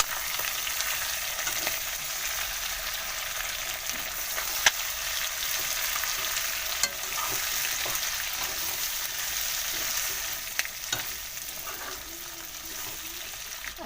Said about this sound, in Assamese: মাংসখিনি ফ্ৰাই কৰা হৈ গৈছে, এতিয়া আলু দি দিম কেইটুকুৰামান।